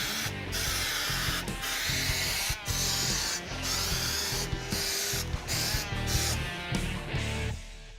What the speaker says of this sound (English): I'm gonna spray it with some rubberized undercoating